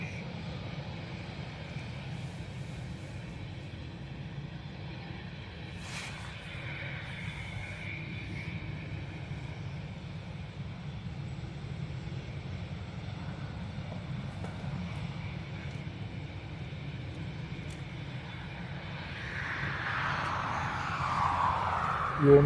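A Delta airliner's jet engines rumble steadily at Dublin Airport, a broad continuous roar that builds louder and brighter near the end as the aircraft powers up, with no talking.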